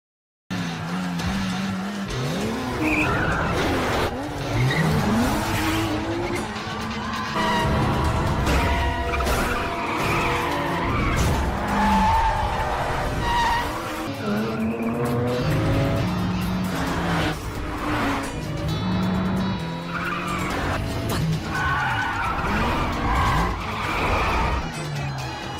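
Cars racing in an illegal street race, with engines revving and roaring past, tires squealing in repeated skids, continuous and loud throughout.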